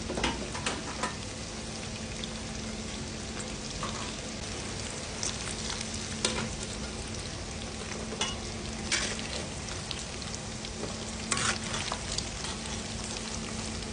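Chicken pieces frying in oil, a steady dense sizzle that holds for the whole stretch, with occasional sharper pops and crackles rising above it. It stays close and fairly loud, and no one speaks.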